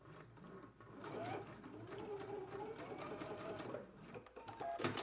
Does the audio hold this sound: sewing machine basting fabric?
yes